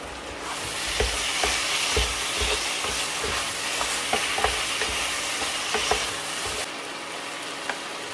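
Curry leaves are stirred into coconut milk and coconut oil for a buttery prawn peralan, a loud continuous sizzle with scraping stirring strokes and light taps, close up, easing off near the end.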